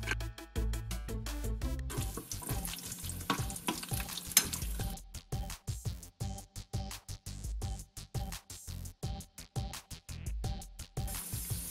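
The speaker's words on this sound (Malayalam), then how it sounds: "നെയ്യ് ചൂടാവുമ്പോൾ അതിലേക്ക് കശുവണ്ടി ഇട്ട് കൊടുക്കാം" Cashews frying in hot ghee in a pan for Kerala-style parippu payasam sizzle and crackle with bursts of stirring, partly under rhythmic background music, with no one speaking.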